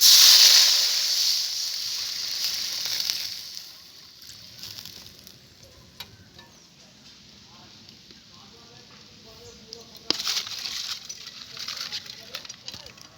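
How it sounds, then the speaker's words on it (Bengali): Water hits a hot pan of fried-down spice paste for a cauliflower and red lentil curry, giving a loud hissing sizzle at first. The sizzle eases to a quieter simmering crackle and briefly rises again near the end, with no talk. "মশলাটা আমার কষানো হয়ে গেছে এবার জল দিয়ে দেবো"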